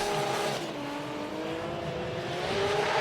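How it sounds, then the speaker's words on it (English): A Toyota Mark II drift car with a mid-mounted engine races in Russian Drift Series qualifying at Vladivostok, its engine a loud, continuous roar with shifting pitch and tire noise that never lets up. "That Mark II with the engine in the middle of the car."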